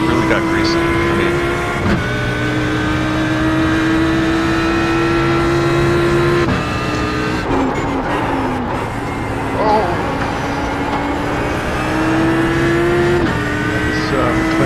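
A McLaren race car in a racing video game drones with a loud, steady engine tone that shifts pitch through gear changes, with brief tire and skid noise, while a person talks over it.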